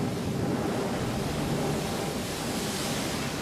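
Large storm surf breaks along the shore in a continuous, loud roar of crashing water with no pauses or distinct individual waves.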